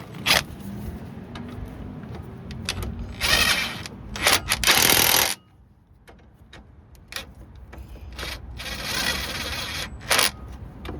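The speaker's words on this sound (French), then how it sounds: "je vais venir resserrer mes deux vis comme tout à l'heure" Brake caliper bracket bolts being tightened on a Peugeot Expert 2 front axle: close, loud bursts of mechanical ratcheting and whirring, broken by a brief quiet pause, then softer clicking and a final burst.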